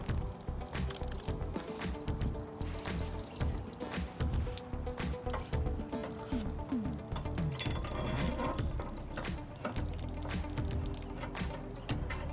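Water running steadily to rinse an RV's fresh water tank, a continuous splashing gush with sloshing and dripping throughout, fairly close and alone.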